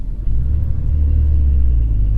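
A 2021 Porsche 718 Cayman GTS with its naturally aspirated 4.0-liter engine and six-speed manual drones steadily with a deep, loud rumble, swelling slightly after a brief quieter start and holding constant throughout.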